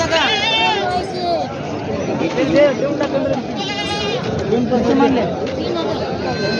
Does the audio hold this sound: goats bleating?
yes